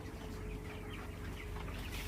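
A crowd of heat-stressed broiler chickens clucking and murmuring together inside a broiler house, a continuous busy chatter over a low mechanical hum.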